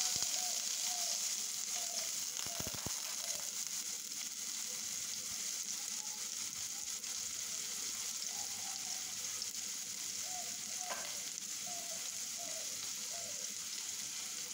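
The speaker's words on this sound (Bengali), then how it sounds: "এখন পেঁয়াজটাকে বেজে নিব জাল দিয়ে।" Onions fry in hot oil with garlic and salt in a pot on a stove, a steady soft sizzle throughout with a couple of brief knocks of a spoon stirring, no one talking.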